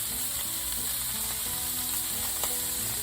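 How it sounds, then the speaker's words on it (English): Pork for carnitas sears in a hot pan with a loud, steady sizzle and crackle of frying fat, close up and without any talk. "Just searing the edges."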